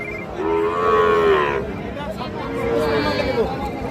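A five-month-old Sahiwal bull calf moos twice in long, drawn-out calls at a busy cattle market, with crowd babble and talking around it.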